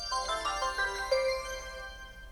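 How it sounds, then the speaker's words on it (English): A Braille Sense Plus notetaker for blind users powers on with a short melodic chime of bright tones that rise and then fade, heard alone without any talking. "So I'm going to power it on."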